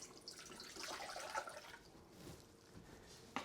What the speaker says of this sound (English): So we are going to add the water to our pot.